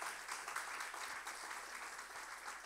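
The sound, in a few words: applause welcoming newcomers in church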